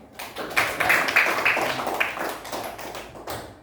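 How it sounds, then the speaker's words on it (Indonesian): Schoolchildren in a classroom clap their hands together in a quick, loud burst of many overlapping claps that tapers off gradually. "Tepuk tangan"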